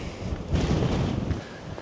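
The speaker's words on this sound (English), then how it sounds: "Oh man, it's so windy." Wind buffeting a microphone, a steady low rumble that swells and gusts for a couple of seconds with no one speaking.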